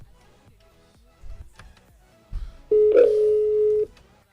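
A steady electronic telephone call line tone sounds for about a second on a radio phone-in, following a few faint clicks and soft knocks.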